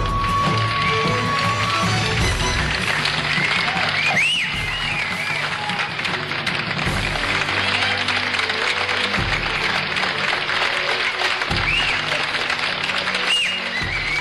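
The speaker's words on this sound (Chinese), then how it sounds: "来宾请给她热烈的掌声" An audience at a singer's solo show applauding and cheering, a loud, dense, continuous wash of clapping with a few rising whistle-like shouts over it.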